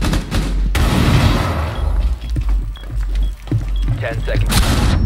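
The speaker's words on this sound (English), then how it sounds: "Coming AMP grenade" An AMP grenade detonates in a video game with a loud booming blast followed by crackling, shattering debris and scattered gunfire-like bursts, with a voice speaking over the noise.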